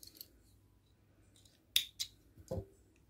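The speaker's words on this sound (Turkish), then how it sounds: "ipimi koparıyorum" Scissors snipping crochet yarn after a chain is finished: a few sharp, close clicks and cuts in quick succession against near silence.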